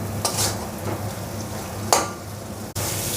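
A spoon scrapes and stirs spice paste with salt in a frying pan over a soft sizzle while cooking a fish curry, with a few sharp scraping strokes and a brief clatter near the end.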